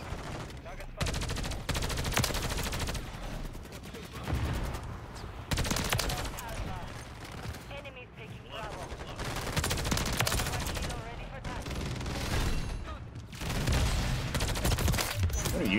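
Rapid automatic gunfire in a Modern Warfare match, dense near bursts of shots repeating throughout with short pauses between volleys, and a player talking briefly under the shooting.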